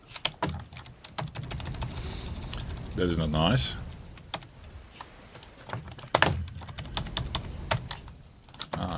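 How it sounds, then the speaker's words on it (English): Loud computer keyboard typing during a game session, bursts of sharp clicking keystrokes close up, interleaved with someone talking and a short rising electronic tone. "Sorry for the loud keyboard sounds"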